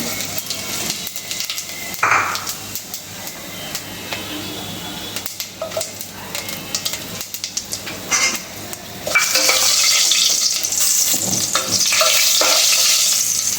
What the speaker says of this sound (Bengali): এখানে আমি ফোড়ন হিসাবে মানে কিছু জিরা দিয়ে দিচ্ছি